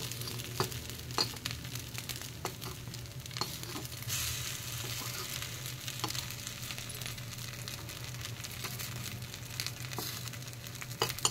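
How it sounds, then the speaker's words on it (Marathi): Rice appe fry in an appe pan and are turned one by one. A soft, steady sizzle carries on throughout, with small taps and clicks as each one is flipped. "अशा तऱ्हेने आपले आप्पे छान पलटून घ्यायचे।"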